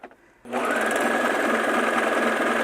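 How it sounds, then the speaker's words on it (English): A serger sewing machine starts up after a brief quiet and runs steadily at high speed, stitching denim pieces together, loud, close and continuous with no talking. "it serges the pieces together"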